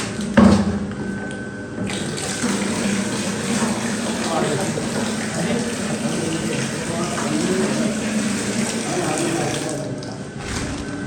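Water gushes steadily from a tap fed by a household water pump, a continuous near rushing flow lasting throughout with a brief knock at the start, while voices talk over it.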